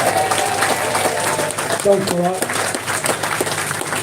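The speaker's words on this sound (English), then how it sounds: "The Blade Runner lads here, who I think deserve another round of applause." Audience applause for the Blade Runner lads at a comedian's talk, a dense continuous wash of clapping throughout with a voice speaking briefly over it.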